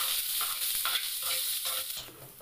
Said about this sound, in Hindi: जो पैन फ्राई है उसमें मिर्ची और प्याज का तड़का लग चुका है